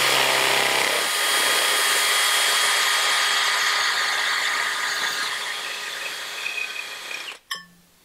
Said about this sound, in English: I'll put on some safety glasses because step drills make a fair number of chips.